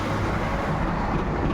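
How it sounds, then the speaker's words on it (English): A fast train passing by at a distance, heard as a steady low rumble and rolling roar that holds evenly through the whole moment, with no voices over it. "See the train coming. Every 5 minutes a train will go."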